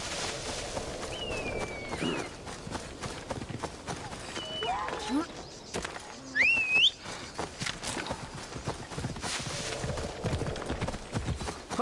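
Horse hooves clip-clop at a steady trot in Assassin's Creed Odyssey, over a busy outdoor game soundscape with whistling calls and other effects, while a voice talks throughout.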